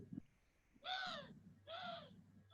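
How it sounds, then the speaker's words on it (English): Two loud caws from a crow ring out one after the other, clear and fairly close, against quiet outdoor background. "I thought I heard a crow"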